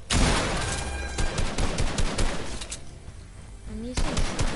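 Shotgun blasts in the Fortnite video game come as a dense run of loud, sharp shots over steady battle noise, and a second burst follows near the end.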